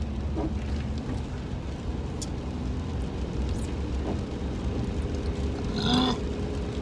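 A single close burp rises briefly near the end of the clip, inside a car, over a steady low rumble of road and engine noise.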